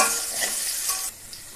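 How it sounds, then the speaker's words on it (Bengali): Cut potatoes frying in hot oil in a pan hiss with a close, steady sizzle and soft stirring, then the sizzle drops sharply near the end. "আলুগুলো একটু ভাজা হতে থাকে।"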